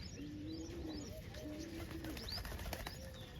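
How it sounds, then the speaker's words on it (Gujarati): Pigeons, including two white ones, coo in soft, repeated rolling calls close by, with faint chirps, a brief flutter of wings and a low background hum. "આમાં બે વાઈટ કબૂતર છે"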